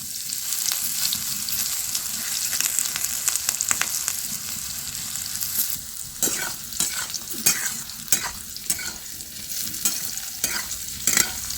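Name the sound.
frying vegetables in oil for bitter curry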